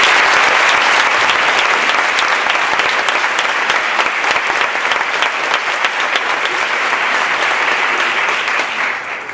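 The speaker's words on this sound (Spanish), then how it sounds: "Un fuerte aplauso para él, gracias." Strong, sustained applause from an audience at an acknowledgements ceremony, a dense wash of clapping that stays loud for the whole stretch before easing at the end.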